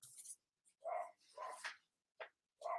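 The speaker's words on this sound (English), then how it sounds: "I'll just try and talk louder than the dog" A dog barking indoors, a few short quiet barks and yips in an uneven burst, faint and close, with no talking over it.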